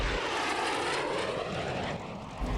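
Mikoyan-Gurevich MiG-15 jet in flight, a steady loud broadband engine roar filling the whole stretch, close and continuous with no voices.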